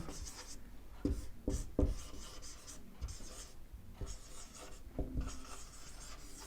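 Pen writing by hand during a lesson on the torque equation of a DC motor, with close, soft scratching strokes and a few sharper taps, heard alone and continuing for the whole stretch.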